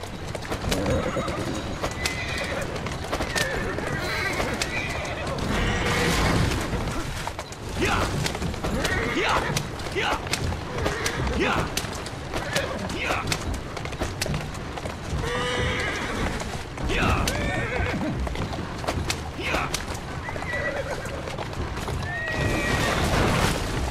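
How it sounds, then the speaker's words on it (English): A horse in the Assassin's Creed Syndicate video game trots with steady clip-clopping hooves and carriage creaks, neighing several times over a thick, continuous layer of game sound. "Who's a good horse?"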